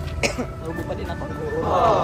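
A person coughs briefly and sharply near the start, followed by a moment of throat noise against a busy street background with people and vehicles; a voice is heard faintly around it.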